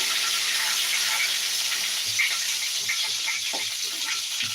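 Steady, crackling sizzle of beetroot frying in a pan, close and continuous, with faint stirring knocks underneath.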